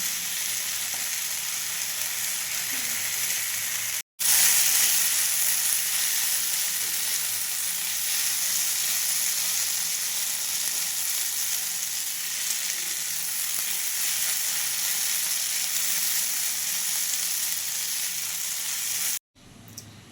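Spiny gourd (kakrol) frying in a pan gives a steady, dense sizzle that runs close and loud almost the whole time, with two brief drops to near silence, one early and one near the end.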